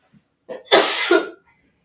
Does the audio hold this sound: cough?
yes